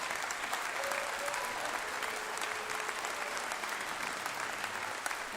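An audience claps continuously at a live music show, a dense, steady wash of applause holding at even volume throughout without pause.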